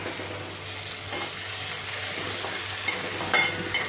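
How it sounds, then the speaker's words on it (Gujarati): Green onions sautéing in a pan for pasta masala give a steady, moderate sizzle with faint stirring scrapes, heard alone without talk. "થોડીક લીલી ડુંગળી નાખી દીધી. થોડીક સતળાઈ જાય એટલે અમે એમાં નાખી દઈશું ટમેટા."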